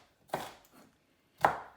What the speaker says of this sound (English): So I'm just chopping up the onion.